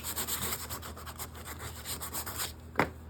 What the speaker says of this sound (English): I'll just sand one more